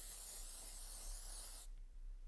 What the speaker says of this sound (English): I would think that it is your typical texture spray.